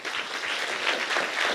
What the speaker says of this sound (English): And another round of applause for Artur.